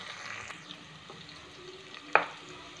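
Green chilies, coriander and mint fry in a pan with a soft, steady sizzle, quiet and close, with a few light stirring clinks and one sharp utensil tap near the end.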